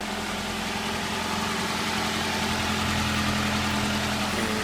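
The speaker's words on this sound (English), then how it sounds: "This is before I turn on the car and pressurize the system again to make sure there's no leaks or anything." A 1996 Nissan Altima engine runs at a steady idle after a fuel pump replacement, a constant close mechanical hum and drone with no change in pace.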